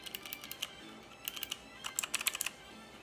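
Clicky Outemu Blue switches on a white Motospeed CK62 mechanical keyboard clatter in quick bursts of sharp keystrokes, close and fairly crisp, with short pauses between runs.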